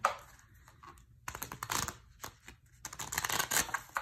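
Soft, irregular rustling and riffling of stiff Contra Versa tarot cards being shuffled close by, in uneven bursts with brief pauses.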